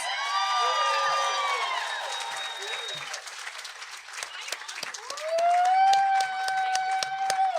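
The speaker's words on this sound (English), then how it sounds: "Give them a round of applause." Onlookers at a mock ceremony applaud and cheer for the witnesses, mixing scattered hand claps with rising whoops and voiced shouts of celebration. People talk and exclaim through the whole moderately loud burst.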